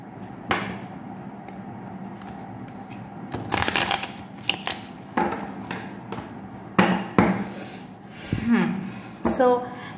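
Tarot card deck shuffled by hand, giving crisp riffling bursts and taps at uneven intervals, close and fairly quiet, with a person talking over parts of it.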